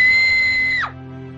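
A woman's scream, loud and sustained on a single high pitch for under a second, then abruptly cut off, leaving a low steady hum behind.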